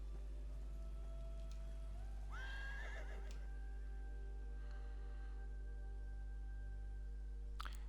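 Horses being ridden in the Elder Scrolls Online game: a loud neigh near the start, faint hoof sounds afterward over a steady background hum, and a sharp click at the end.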